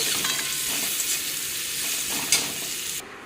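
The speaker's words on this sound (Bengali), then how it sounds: "দিয়ে দিচ্ছি পেঁয়াজ কুচি একসঙ্গে দিয়ে ভেজে নেব" Chopped onion fries in a hot pan with cauliflower, giving a dense continuous sizzle with a few stirring scrapes, cutting off abruptly near the end.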